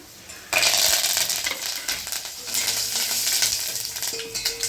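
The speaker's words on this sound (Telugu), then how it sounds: "తాలింపు అంతా వేగింది" Curry leaves hit hot tempering oil with a sudden loud sizzle that burst in after a quiet start and then hisses and crackles steadily, with light stirring clinks, for spinach pulusu; close, without talking.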